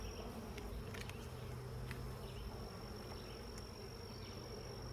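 A steady, dense hum of many honeybees buzzing close around hive frames, continuous throughout with faint higher whines, no voices.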